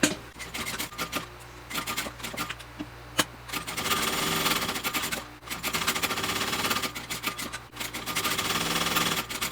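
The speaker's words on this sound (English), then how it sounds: "So I'm just going to top stitch down each long side." Close by, a sewing machine topstitches along the long sides of a backpack strap in two sustained runs, a fast, even whir and clatter with brief stops between them.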